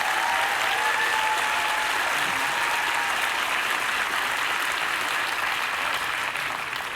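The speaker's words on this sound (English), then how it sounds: "Let's give Matt another round of applause" Audience applause in a hall, a dense, steady wash of many hands clapping that holds loudly for the whole stretch and fades slightly at the end.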